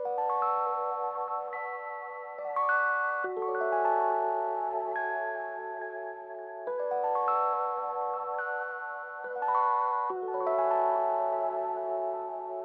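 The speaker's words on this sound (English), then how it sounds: "So I used a Scarby Mark 1 electric piano Rhodes from Contact." Mellow Scarby Mark 1 Rhodes electric piano chords, strummed loosely, ring out in a calm sequence of about four sustained, overlapping voicings, each swelling and fading, with no talk over them.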